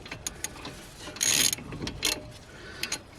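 A ratchet clicks in short bursts while snugging up the brake caliper carrier bolts on a BMW F30 front brake, with sharp, close mechanical ticks and brief louder spurts of rapid clicking.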